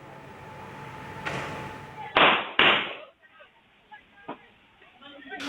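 Police gunshots recorded on a residential CCTV camera in South Sulawesi: two sharp, loud bangs in close succession over a muffled background, followed by fainter distant pops and low noise.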